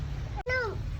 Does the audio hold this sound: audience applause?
no